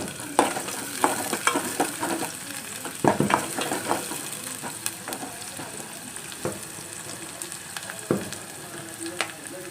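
Food fries and sizzles in a pan for a quick village-style palya, frying until reddish, a steady hiss broken by repeated scraping and stirring strokes of a utensil against the pan.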